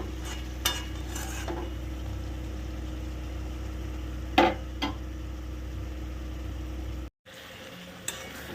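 Eggs stir-fry in a pan with a low, steady sizzle and a few sharp clinks of a utensil against the metal, quiet and close, with a brief dropout near the end.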